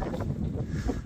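A brief gust of wind blows through ash tree branches on a windy morning in a Russian village, buffeting the nearby microphone with a low, rough rush for about a second.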